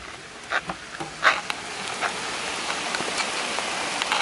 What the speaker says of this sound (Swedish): Men det ösregnar.